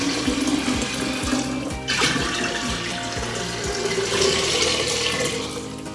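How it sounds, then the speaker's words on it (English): Fourteen cups of filtered water pour into a jar for homemade kombucha in a steady, loud stream close by. The splashing rises as the jar fills. "Then I'm gonna add in the 14 cups of filtered water"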